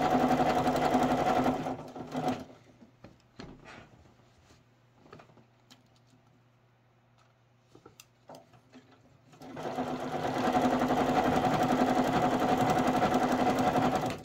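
A sewing machine runs close and steady as it stitches quilt fabric, stops for several seconds with only small clicks and handling noises, then starts stitching again at full speed.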